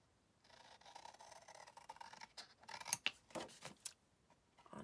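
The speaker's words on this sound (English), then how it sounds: "we're just gonna cut those out just like we've done before" Scissors cutting paper corners for a handmade explosion box craft, a soft continuous snipping and rubbing that builds into several sharper, louder cuts near the end, close and quiet with no talk.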